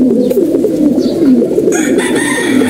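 Pigeons coo in a loft in a steady, overlapping low warble, close and continuous, with a brief brighter chirp later on.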